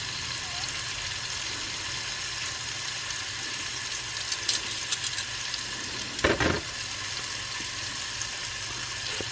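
Crab cakes fry in a pan on a gas stove, a steady soft sizzle running throughout with a brief scrape or clatter near the end as they are moved.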